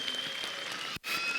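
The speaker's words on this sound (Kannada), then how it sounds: "ಒಂದ್ಸರಿ ಜೋರಾದ ಚಪ್ಪಾಳೆ ಬರಲಿ ಲೇಡೀಸ್ ಅಂಡ್ ಜೆಂಟಲ್ಮೆನ್." Applause from the audience at a school annual day after a UKG children's song dance, a soft, distant patter of clapping that cuts out briefly, then resumes.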